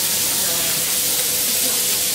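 Onions and mushrooms sizzle loudly in a hot pan with butter, giving a steady, dense hiss that fills the whole stretch without a break.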